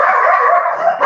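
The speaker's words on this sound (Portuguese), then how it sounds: "Os cachorrinhos aqui." Small dogs barking and yipping close by in a short, continuous, high-pitched burst.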